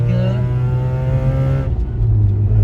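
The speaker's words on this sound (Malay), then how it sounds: "Jadi tengok ni drop gear 3. Sedapnya, merdu, pengap masuk sini." A Mazda RX-8's rotary engine revs hard in a loud, close, buzzing drone that dips briefly as the driver drops into third gear, then picks up again.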